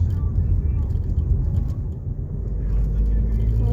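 A car drives along with a steady low engine and road rumble inside the cabin, while people talk over it.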